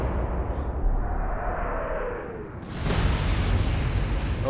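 Naval gunfire in the World War II warship game Atlantic Fleet: a heavy rumbling boom rolls and fades, then a second loud blast cuts in sharply and sustains a broad roar to the end.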